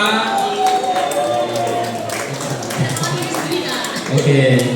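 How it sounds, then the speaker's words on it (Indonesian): A mall crowd applauds two cosplayers at a coswalk and cosplay competition, with scattered claps over a loud hall murmur and background music, the clapping fairly faint beneath the general din. "Tepuk tangan yang meriah dong untuk mereka berdua."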